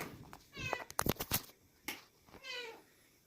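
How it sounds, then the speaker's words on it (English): A single short cough, close by, followed by a quick throat-clearing sound, from a person with a cold. "It's not barking, but it's doing meow meow."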